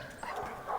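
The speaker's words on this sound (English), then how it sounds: "The barking of the dogs signals that another sounder will soon appear." Hunting dogs bark during a wild boar drive in a Romanian forest near Sibiu, a brief burst of excited barking at middle distance with rustling behind it.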